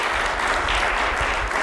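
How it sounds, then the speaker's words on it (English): An audience claps for a sponsor at a sports photography roundtable talk, dense, even applause filling the room from start to finish, with no pauses. "So a round of applause for Canon"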